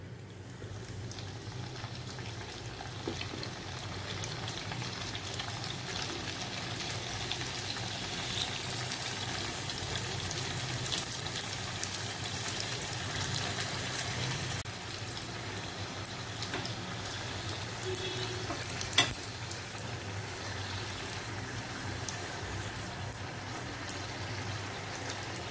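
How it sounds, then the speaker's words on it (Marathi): Puris deep-frying in hot oil, a steady faint bubbling hiss that holds for the whole stretch with no talk. "आता आपण पुऱ्या फ्राय करून घेऊ।"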